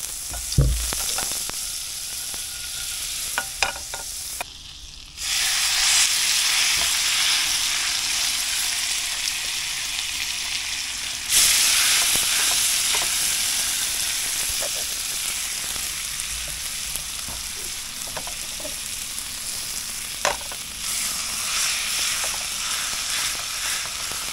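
Smoked fish hash fries in olive oil and butter in a non-stick pan, giving a close, constant sizzle with stirring scrapes. The sizzle surges sharply at two points as food is moved.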